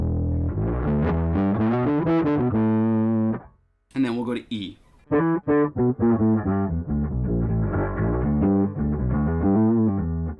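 Gritty, distorted synth tones from the Yonac Roxsyn app played in a sequence of held notes, pausing briefly while a voice speaks, then resuming with a rough, buzzy edge.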